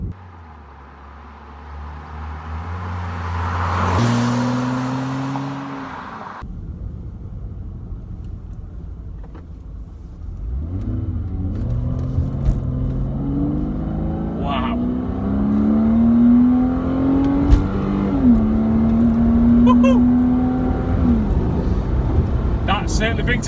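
A Porsche 987 sports car accelerates hard along a smooth B road, its engine climbing in pitch through rising revs and gear changes, loud and close, with a voice heard briefly early on.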